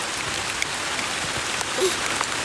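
Steady rain falls in a hilly outdoor spot on Bukit Bunian, a broadband continuous patter with scattered drop impacts, close and moderately loud, with no talk.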